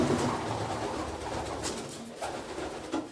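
Pigeons coo softly and repeatedly inside a breeding loft, the low throaty calls overlapping against a steady background hum.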